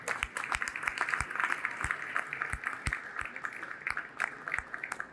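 Scattered, moderate applause from a small audience at an official charter signing ceremony, with individual claps standing out over a steady patter lasting several seconds.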